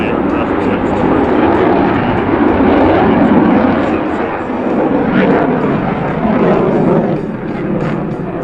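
Jet engine power changes from a US Navy F-18 Hornet flying a demonstration at an air show, a loud continuous roar that swells and eases over several seconds with no break.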